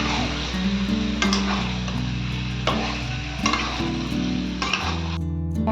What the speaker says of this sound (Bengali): তো এটাকে এবার ভালোভাবে নেড়ে দেবো